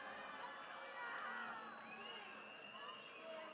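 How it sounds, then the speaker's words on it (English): Hockey arena crowd voices displeasure in a sustained, fairly faint wash of booing, shouting and murmuring through the stands. "you can hear the distaste from the Reapers crowd. They're not happy about that"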